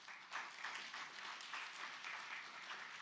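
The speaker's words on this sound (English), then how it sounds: "I encourage just some applause for the organizing committee" A conference audience gives a faint, distant round of applause for the organizing committee at Johor Conversations 2024, a soft, even patter of clapping that holds at low level throughout.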